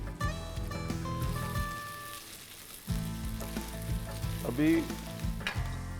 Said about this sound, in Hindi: अब जो समय लेके पकने वाली सब्जी है वो डाल दो, यानी कि आलू